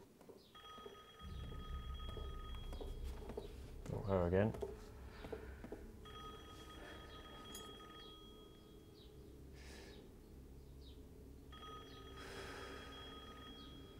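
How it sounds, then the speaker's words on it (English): A telephone ringing in the Resident Evil Village video game: bursts of electronic ringing repeat at intervals amid low ambient game sound, with a short spoken line and a breathy snort between the rings. "That's the phone, love."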